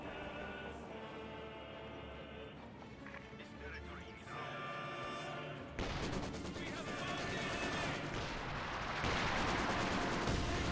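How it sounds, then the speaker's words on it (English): An incendiary light artillery barrage in the World War II strategy game Company of Heroes 2 builds into a dense, loud roar of impacts and gunfire, with a commentator talking throughout. "great incendiary light barrage"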